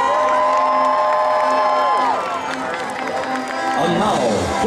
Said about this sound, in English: I think everybody's favorite Wookiee needs a big round of applause